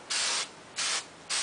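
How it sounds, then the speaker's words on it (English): Hairspray hisses onto deep wave crimped hair in three short, steady bursts, each about a third of a second long, separated by brief pauses, close and clear with no talking. "You kind of spray your hair a little"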